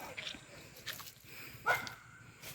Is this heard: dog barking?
yes